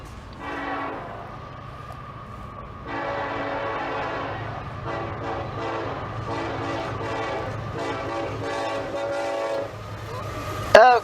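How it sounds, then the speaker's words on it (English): A Canadian Pacific locomotive sounds its multi-chime horn in a Jingle Bells pattern, loud sustained blasts in a tune-like rhythm over a low rumbling engine, ending with a sharp close noise. "Canadian Pacific with a Jingle Bells horn show"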